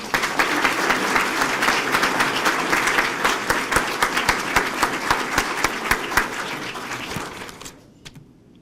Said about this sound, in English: Let's all give him a round of applause.